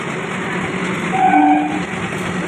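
Interior of a nearly empty train compartment on a Sunday ride, a loud continuous rumble of the moving carriage with a brief horn-like tone partway through and no voices.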